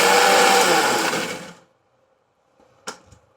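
A mixer grinder grinding soaked tamarind and dried red chillies whirs loudly at close range, then cuts off and winds down into silence, followed by a couple of faint clunks.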